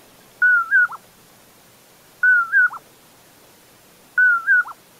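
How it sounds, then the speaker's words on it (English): A common poorwill calling three times at even intervals, each a clear whistled two-part phrase with a short dropping end note, distinct over a quiet background. "that bird is saying poor will"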